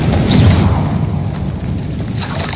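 A Confringo blasting spell from Hogwarts Legacy erupts in a heavy, booming explosion with a deep low rumble that swells early and then tails off, followed by a brighter crackling burst near the end.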